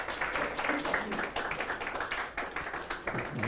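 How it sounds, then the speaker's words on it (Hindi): Students in an online English competitive-exam class clap for the top scorers, giving a run of quick, uneven, fairly faint claps that continue steadily with speech in the background. "तालियां आपके."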